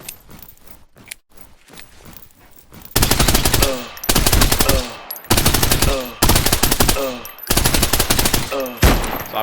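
An SMG fires in a video game capstone project, with quiet movement at first and then loud sustained bursts of rapid automatic fire, several long strings separated by brief pauses.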